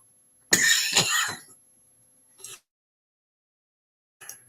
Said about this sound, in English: except have a coughing fit